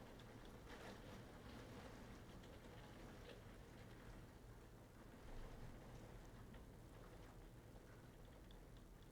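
Heavy rain pelting a window, a dense steady hiss like a hose spraying the glass, continuous and even throughout with no talking.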